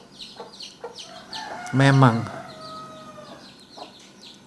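A dying chicken lets out one loud, strained cluck-like cry in the middle, with fainter clucks and soft rustling around it and a brief spoken word nearby.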